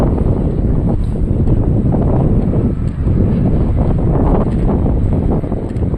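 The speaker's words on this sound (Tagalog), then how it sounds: "Dahil malakas yung hangin" Strong wind roars steadily into the microphone at Dangay Port in Roxas, a dense, buffeting rumble that never lets up, with a faint whine of water and engine beneath.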